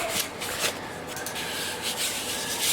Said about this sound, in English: the model number on this sander is RK4248K. And it's a Rockwell.